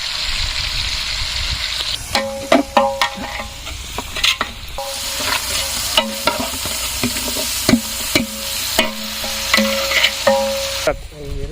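Onions with salt frying in a pan for a village-style quail biryani, a steady sizzle running throughout while a utensil repeatedly scrapes and clinks against the pan in irregular bursts, close and alone with no talk.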